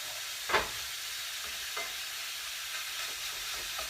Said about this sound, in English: So, we're cooking this down, reducing it.